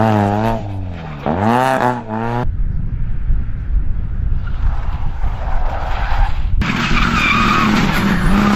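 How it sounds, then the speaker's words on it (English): A race car spins out on track with tires skidding loudly in a long, harsh scrub. An engine whine and a passing car come before it, and more engine roar follows as the spin ends. "that clipped him and spun him right around"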